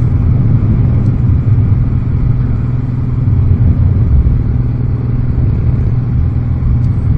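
A Suzuki Boulevard motorcycle cruises along the Great Ocean Road at about 2,500 RPM, its engine giving a loud, even, continuous low rumble mixed with road noise and no breaks or voices.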